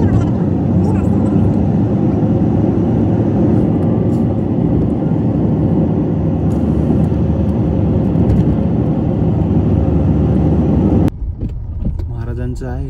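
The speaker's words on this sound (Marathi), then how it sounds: "ते बघा गाडी येत आहे नवीन काका घेऊन" A car pulls up with a loud, steady engine rumble that stays close and continuous for about eleven seconds before dropping away, and a voice talks over it.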